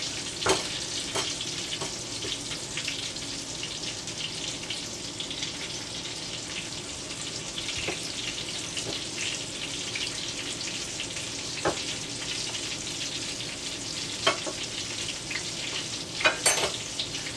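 Chicken pieces fry in hot bacon grease, a steady loud sizzle that continues without a break, with occasional sharper pops and spatters rising above the constant crackle.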